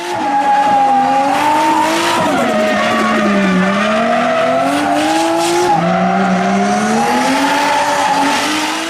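A Toyota Mark II JZX100 street drift car slides with loud, sustained tire squeal layered over a revving engine whose pitch rises and falls through the drift, close and continuous.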